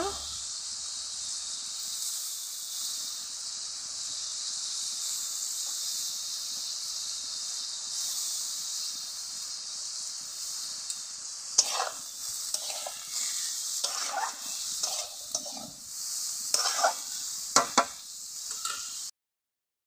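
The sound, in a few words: fish frying in a pan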